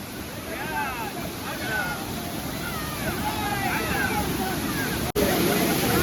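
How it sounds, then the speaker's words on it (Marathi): A waterfall at a farmhouse picnic keeps up a loud, steady rushing roar throughout, with voices and squeals of people playing in the water faintly above it. "धबधब्यावर राहून पोहोचलेलो आहोत"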